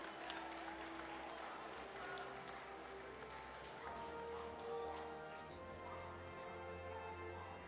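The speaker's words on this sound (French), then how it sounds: "vous pouvez les applaudir encore fortement" A crowd applauds at a cat show held at an agricultural fair, a faint, steady patter of clapping that swells slightly near the end.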